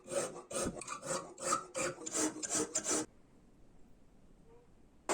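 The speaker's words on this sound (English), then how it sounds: "bevel filing." A hand file rasps along the bevel of a knife blade made from an old saw blade, about nine quick back-and-forth strokes in steady rhythm, close and crisp, then stopping into near silence.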